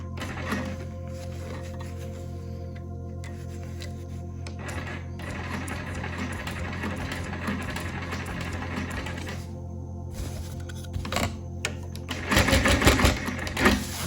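A quilting machine on a frame stitches through thick seams in a steady, fairly quiet mechanical whir with a rapid ticking rhythm, rising into a louder, denser burst near the end.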